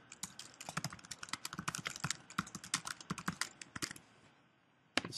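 Quick, uneven bursts of clicks from a computer keyboard being typed on, close and crisp, running for several seconds before pausing, then one more sharp tap, with no talking.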